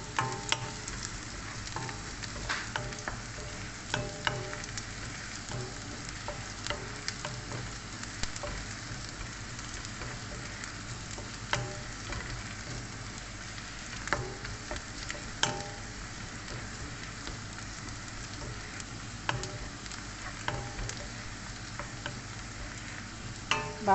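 Onion and garlic sautéing in a pan for stir-fried spinach, a continuous low sizzle with scattered light spatula clicks and scrapes, steady and fairly quiet, no voices.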